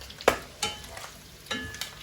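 Diced onion and carrot fry in a pan with a soft background sizzle, broken by several sharp scraping knocks of stirring, about five distinct strokes spaced irregularly.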